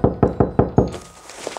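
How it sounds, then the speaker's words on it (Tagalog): Five loud, evenly spaced knocks strike a locked bedroom door up close in quick succession, followed by a quiet tail with no voices. "Nagmadali akong tumakbo palabas ng kwarto at agad na kumatok."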